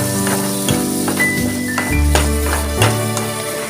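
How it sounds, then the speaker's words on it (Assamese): Tomato paste frying in hot oil in a pan while a restaurant-style bhindi masala is cooked, a faint crackling sizzle under loud background music with a few soft clinks. "সেই বিলাহী পেষ্টখিনি দি এইবাৰ ভাজি ল'ম ভালকৈ"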